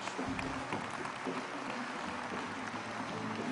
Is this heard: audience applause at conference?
yes